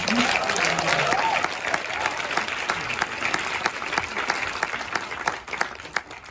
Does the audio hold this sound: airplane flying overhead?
no